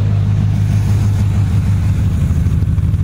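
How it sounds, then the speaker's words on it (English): A car engine idles steadily with a low, even rumble and hum, close by and constant throughout, with no voices. "And again, you can hear the car running."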